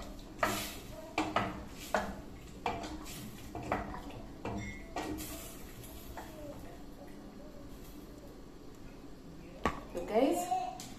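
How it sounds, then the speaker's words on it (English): A spoon scrapes and clinks repeatedly against a metal cooking pot in a home kitchen, sharp irregular knocks close by, with faint talk and a louder clatter near the end. "then I stir"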